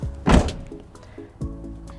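A 2015 Toyota Highlander rear hatch swings shut with a loud, solid thud, followed about a second later by a softer second knock and faint rattles in a quiet setting.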